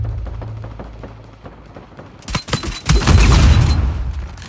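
Quiet low rumble, then a sudden burst of rapid video game gunfire from about two seconds on, growing denser and louder with booming impacts toward the end.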